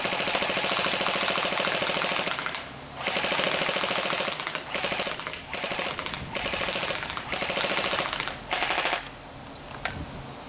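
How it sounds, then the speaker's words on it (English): Tokyo Marui MP5K PDW airsoft gun fires full auto at a target 50 feet away, long loud rattling bursts broken by short pauses, close and steady throughout with no talking. "I'm going to throw this back out there at 50 feet, and I'm going to just go full auto on it"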